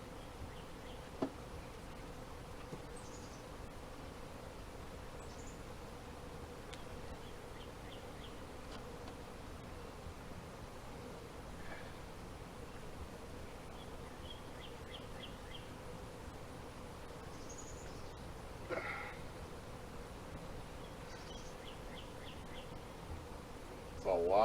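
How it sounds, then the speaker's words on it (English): Honey bees buzzing around a hive as frames are handled, a steady dense hum with occasional louder passes from bees flying near. "A lot of bees, a lot of honey."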